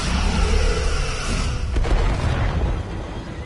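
Starship weapons fire and explosions in a Star Trek video game: heavy rumbling booms with deep low-end thuds, a sharp burst near the middle, then the din fades toward the end.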